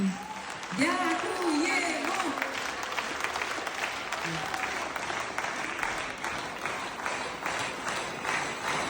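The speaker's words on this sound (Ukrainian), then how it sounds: "воно заслуговує на гучні овації" Applause from an audience at a charity Christmas festival follows a carol performance, a moderate wash of clapping that swells after a brief opening and continues steadily, with a voice speaking over the start.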